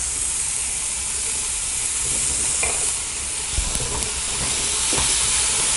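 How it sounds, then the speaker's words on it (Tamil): A tomato sizzles loudly in hot oil with chillies and tamarind for coriander chutney, a constant hissing fry close up with a few faint stirring knocks. "இப்போ நம்ம ஒரே ஒரு தக்காளியும் சேர்த்து நல்லா வதக்கிக்கலாம்"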